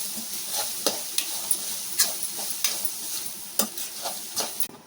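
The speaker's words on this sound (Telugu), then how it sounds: "ఈ కారం అంతా కలిసేటట్టుగా కలుపుకోవాలి." Chili powder stirred into hot tempering in a pan, a spoon scraping and clinking in irregular strokes over a soft continuous sizzle, quiet and close.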